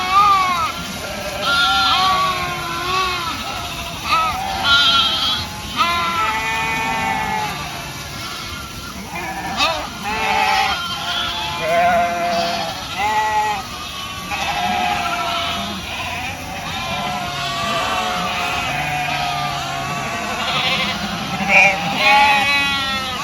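A flock of sheep and lambs bleats continuously, many overlapping calls near and far, some loud and close, others fainter in the background, while grazing a fenced pasture.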